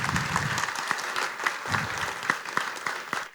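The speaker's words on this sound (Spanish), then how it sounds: "Un aplauso para el maestro." Audience applause for a conductor at a tribute event, close and lively clapping with distinct individual claps that rise and fall over a few seconds.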